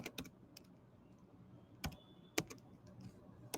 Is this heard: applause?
no